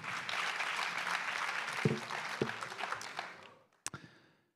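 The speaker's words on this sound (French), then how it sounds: "On les applaudit encore." An audience at a national congress claps warmly after a presentation. The applause holds steady, then thins into a few scattered final claps and fades to near silence.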